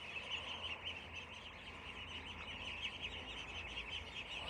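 Dense, steady chirping from a group of young chicks and goslings kept at home, continuous and fairly close throughout, with no talking.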